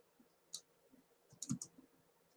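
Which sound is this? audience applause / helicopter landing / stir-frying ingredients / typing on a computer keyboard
typing on a computer keyboard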